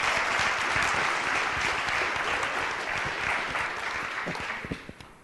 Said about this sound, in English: Let's give Shannon another round of applause.